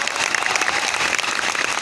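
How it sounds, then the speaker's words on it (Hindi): An audience in a hall in Patna claps for the space agency ISRO, a brief burst of dense, even applause from a large crowd. "ये तालियां इसरो के लिए मैंने इसलिए बजवाई है"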